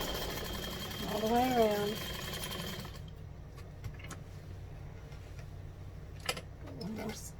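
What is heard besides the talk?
sewing machine stitching a clutch seam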